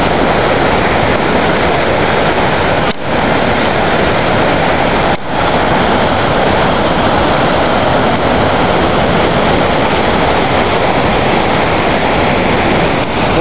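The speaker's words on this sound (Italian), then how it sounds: "queste sono le Cascate delle Marmore vicino Terni" Marmore Falls near Terni, Italy, roars in a loud, unbroken rush of falling water that fills the whole clip from close by. Only two brief dips interrupt the steady roar.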